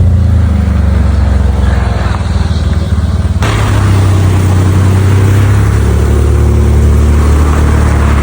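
A car pulling in to park at a car wash, its loud, close engine droning low and steady, with a sudden shift in tone partway through as it moves into place.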